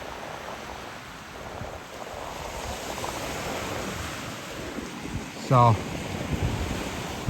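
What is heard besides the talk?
Atlantic Ocean waves and wind at the shore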